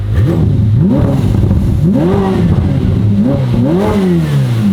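A Ferrari F8 engine with a custom cat-back exhaust revs up repeatedly, pitch climbing and dropping in several loud, close bursts over a steady rumbling idle.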